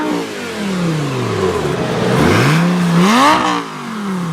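Lamborghini 6.2 liter V12 engine revving nearby, a low rumble that drops, then climbs sharply in pitch in a loud rev before settling back down, with no talk.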